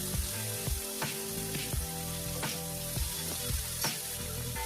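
Cumin, mustard seeds and ginger-garlic paste sizzle in hot oil for an ambadi flower chutney, a steady close crackle with sharp clicking pops recurring throughout, no voices.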